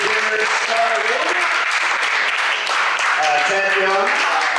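Applause from a dinner crowd at a political fundraiser, a steady, dense wash of clapping that holds strong for the full few seconds, with voices mixed in underneath.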